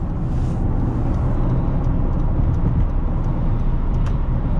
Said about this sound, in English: Merging onto the freeway. Up to speed really, really well.